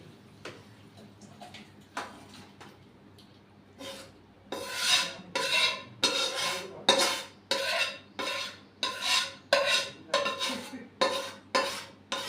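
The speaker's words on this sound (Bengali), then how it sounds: "বাটিটার মধ্যেই ঢেলে নেবো বন্ধুরা।" Cooked jackfruit curry is scraped from the pot into a bowl with repeated rasping strokes of a spoon against metal, quiet at first then a steady close series of scrapes.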